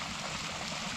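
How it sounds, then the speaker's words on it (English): Water running steadily through an emptied irrigation pivot line on a hillside farm, a continuous close hiss and trickling rush with faint gurgles and no pauses. "any water that's in the line will come down here"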